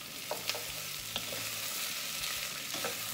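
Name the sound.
onions frying in pan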